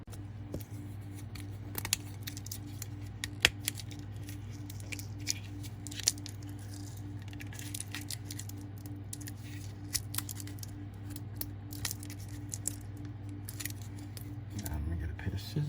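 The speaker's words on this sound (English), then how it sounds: "Let me get a pair of scissors." Scissors snip and crunch through the plastic packaging of a two-pack USB Type-C wall charger in rapid irregular cuts, close by over a steady low electrical hum.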